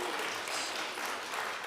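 Guests at a Brit Mitzvah applaud in a steady, dense wash of clapping that fills the room at moderate loudness throughout, with no voices standing out.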